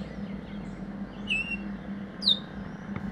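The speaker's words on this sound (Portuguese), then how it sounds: "No dia seguinte, o primeiro som é dos pássaros." Morning birds in Guyana give two clear, high whistled calls spaced about a second apart, moderately close over a low steady hum and quiet background.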